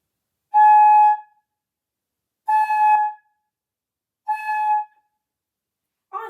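Flute blown across the embouchure hole by a beginner, giving three separate breathy held tones spaced about two seconds apart, each clear and close, with silence between them.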